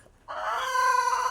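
A rooster on a poultry farm crows once, loud and near, a single drawn-out call rising after a brief quiet moment.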